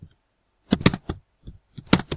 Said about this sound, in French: désolé pour le bruit du clavier